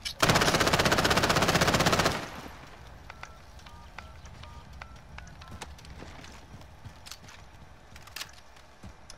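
Rapid automatic MP7 fire from a video game rattles loudly in one sustained burst for about two seconds, followed by quiet game ambience with scattered faint clicks and footsteps.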